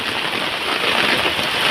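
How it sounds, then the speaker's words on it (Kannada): Steady heavy rain pours without a break, a dense broad hiss that sounds close by, with some wind noise mixed in and no voices. "ಮಳೆ ಮಳೆ ಗಾಳಿ ಮಳೆ ನಡ್ಕೊಂಡೋಗ್ತಾ ಇದ್ದಾರೆ"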